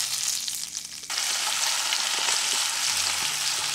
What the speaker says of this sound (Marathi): अशा प्रकारे बाकी राहिलेले दोन्ही मासे पण फ्राय करून घेऊया.